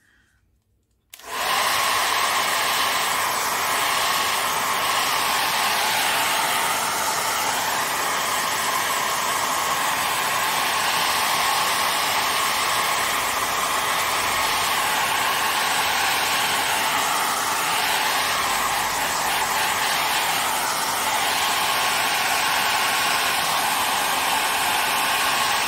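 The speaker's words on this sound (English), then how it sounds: "put on my heat tool or hair dryer or whatever." Heat tool or hair dryer drying gesso on an art journal page, switched on after a moment and then blowing in a loud, steady, unbroken roar.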